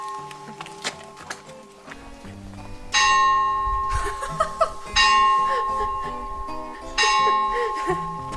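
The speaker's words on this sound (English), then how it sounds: "The church is ringing the bell." A church bell in a Sicilian town rings out in slow, evenly spaced strokes about two seconds apart, each clang ringing on with a shimmering tail, while people nearby chatter and chuckle softly underneath.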